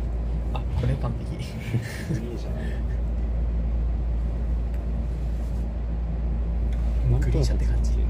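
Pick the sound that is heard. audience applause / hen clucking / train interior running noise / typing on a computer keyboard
train interior running noise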